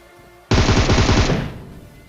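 Rapid automatic gunfire in a battle royale shooter, one loud burst of closely spaced shots lasting under a second, then a fading tail, with no talk.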